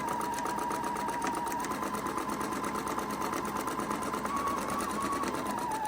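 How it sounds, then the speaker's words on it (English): A sewing machine stitches a 2.5-inch fabric strip for an apron, running with a steady, fast, even whirring chatter close by, alone and with no talking. "And we're starting out with sewing it"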